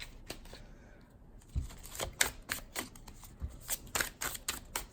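A deck of playing cards is shuffled repeatedly, giving quick riffling bursts and soft flicks, fairly close and quiet, with no talking.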